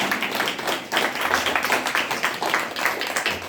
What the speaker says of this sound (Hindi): इनके लिए तो जोरदार तालियां हो जाए